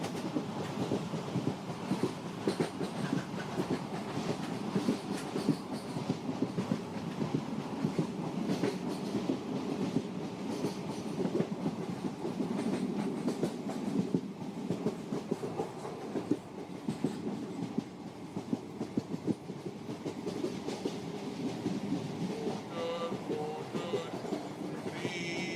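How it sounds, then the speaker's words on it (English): A train rumbles along steadily with a continuous rattling clatter of wheels on track, loud and close, with no voices. "the sound of the train feels like music to your ears"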